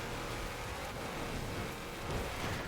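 Game rain falling in Forza Horizon 4, a steady broadband hiss with low rumble underneath, continuous and moderately loud with no voices.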